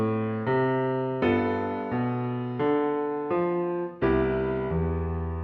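Jazz piano playing a walking bass line, one low note per beat under right-hand chords held for each whole bar, chords changing about every three seconds, clear and solo with no talking.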